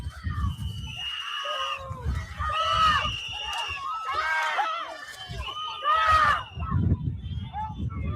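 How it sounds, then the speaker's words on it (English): Observers shout at agents walking back to their vehicles, angry raised voices rising and falling in bursts over a noisy outdoor crowd scene. "We saw observers shouting at the agents as they walked back to their vehicles."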